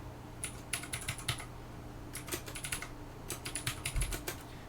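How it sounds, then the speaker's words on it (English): Keystrokes on a computer keyboard during a lecture on saving a Word document come in three quick bursts of rapid, close, moderately loud clicks with short pauses between them. "even hit on the keyboard Control S"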